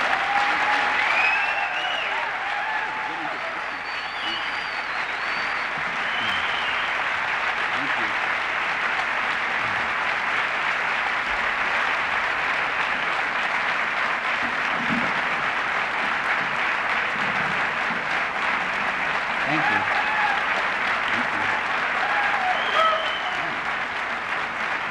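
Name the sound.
audience applause before a talk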